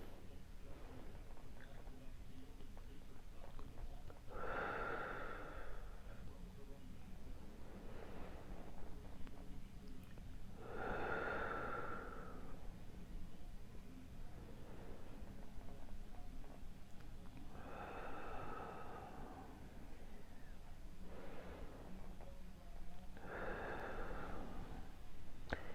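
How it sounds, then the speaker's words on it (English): A group breathing deeply together during a prayer session, slow breaths rising and falling about every six seconds, soft and airy over a quiet hum of the room. "So let's just breathe right now."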